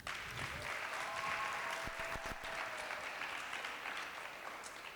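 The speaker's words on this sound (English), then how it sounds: "let's give them a round of applause" A large audience applauding, dense steady clapping that fills the whole stretch, heard from within the room.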